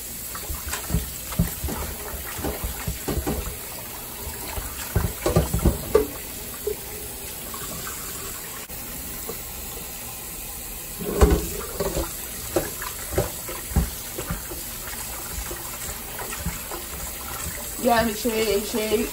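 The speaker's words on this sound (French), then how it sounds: "Donc, je vais tout simplement nettoyer comme ça. Avec de l'eau tiède." Chicken gizzards being rinsed by hand under lukewarm tap water: running water splashes in uneven bursts with wet handling noises, close and moderately loud, with quieter gaps in between.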